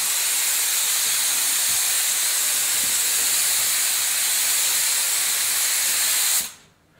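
A spray gun applies Marbocote Spraycote FD release coating to a mold, giving a steady close hiss of air and spray that runs continuously for about six seconds and then cuts off abruptly.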